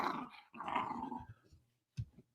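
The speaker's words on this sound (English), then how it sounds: "what kind of dog is that? He doesn't sound happy." An injured dog gives a low, unhappy growl in two bursts, a longer rumbling stretch followed by a short gap and a brief final grumble, close and moderately loud.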